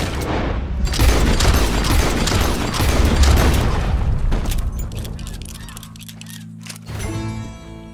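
Loud gunfire and booming blasts in Red Dead Redemption 2 come in a dense cluster over the first few seconds, then fade into a quieter stretch with a lingering tone.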